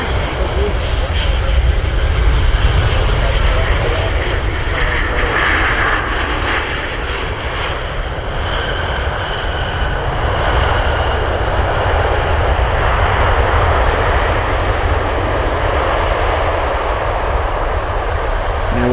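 Loud, steady jet roar of Air Force One at Cleveland airport, a broad continuous engine rush that holds strong the whole time with slight swells, close by and dominating the scene.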